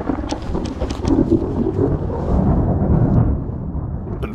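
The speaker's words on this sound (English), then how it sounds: "We're gonna hide from the storm for a bit." Thunderstorm on a high mountain trail at about 12,300 feet in Colorado, with a low continuous rumble of thunder and rain-like hiss, wind buffeting the microphone, and a few sharp crackles early on.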